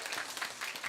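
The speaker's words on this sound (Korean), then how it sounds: "우리 시영이를 위해서 다시 한번 박수로 격려하겠습니다." Church congregation applauding during a Sunday worship service, a steady wash of many hands clapping close and continuous with no talk over it.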